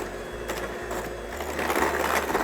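Food processor whizzing jam bar batter with flour, a short buzzing motor run in bursts that briefly pause and then rise a little louder toward the end.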